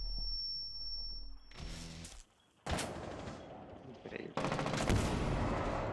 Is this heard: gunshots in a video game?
yes